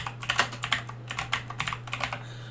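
Rapid typing on a computer keyboard, a close, quick run of light clicking keystrokes over a faint steady hum, with no talking.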